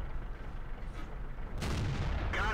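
World of Tanks tank gun firing, an AMX 13 90: a sharp boom lands partway through and a second blast follows near the end, both heavy and close over a steady low rumble.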